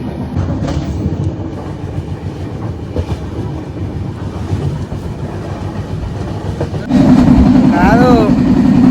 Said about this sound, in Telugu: ట్రైన్లోకి ఎక్కినాం.